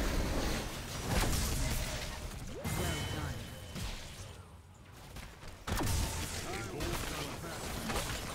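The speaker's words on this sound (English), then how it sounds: "Orbital bombardment." Orbital bombardment ability in the online battle game Heroes of the Storm, a sustained series of heavy blasts, crashes and whooshing impacts with a short lull midway, as players talk over the din.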